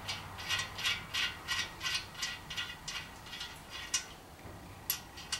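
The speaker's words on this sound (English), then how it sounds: "I'm gonna chase that thread down." A thread chaser or tap being worked through a bolt hole in a Chevy 350 engine block, producing a quick, even series of close, light ratcheting clicks, steady for several seconds.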